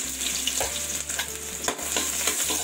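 Garlic and ginger sizzle loudly in hot oil in a wok over a strong flame, with a few spatula scrapes cutting through the constant frying hiss.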